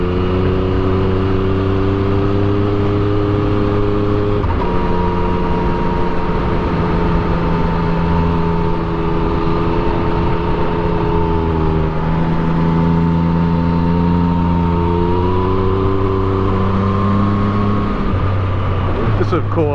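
A Yamaha MT-09 motorcycle engine hums steadily through a ride, its pitch rising and falling with throttle changes while a rider talks over it.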